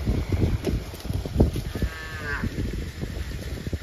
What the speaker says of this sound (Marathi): खोंड आहे, खोंड तो असा हॅम्ब्या करतोय